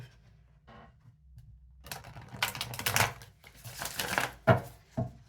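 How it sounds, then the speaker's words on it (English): Cards riffle and flutter in a few bursts, with soft tapping and brief pauses between the shuffles. "I love how this deck shuffles."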